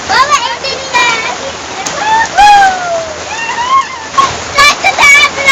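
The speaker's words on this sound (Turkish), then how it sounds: "Hele buranın çeşmesine bak. Çok daha çok akıyor." Water splashes and pours steadily from a fountain in Dudayev park during rain, a close, hissing wash of sound with children's voices chattering over it.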